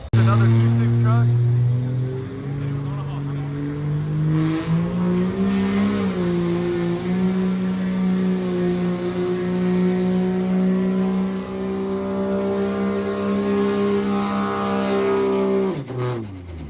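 A hot street 2.6 class pulling truck revs hard at an outlaw-class fairground pull in Anderson County, Tennessee, engine pitch climbing and then holding a loud sustained roar for over ten seconds before cutting off abruptly.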